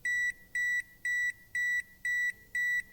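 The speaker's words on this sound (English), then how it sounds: "Later we have a dashboard beeps, which are some kind of warning sound of the opening gate." Six evenly spaced electronic car dashboard warning beeps for an opening gate repeat in a steady rhythm, clear and close with nothing else behind them.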